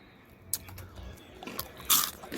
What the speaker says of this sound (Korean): 이렇게 음, 닭껍질 튀김 먹어볼게요.